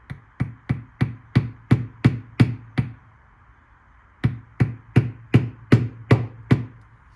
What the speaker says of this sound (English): this is my big boy hammer